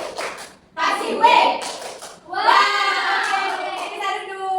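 Third-grade primary school children do a 'tepuk wow' class clap, bursts of hand clapping mixed with loud, chanting young voices, close and lively, with a brief lull near the start.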